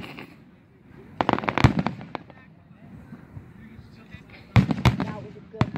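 Fireworks going off outdoors in two clusters of sharp crackling bursts and pops, loud and close, with quieter rumbling and faint voices in between.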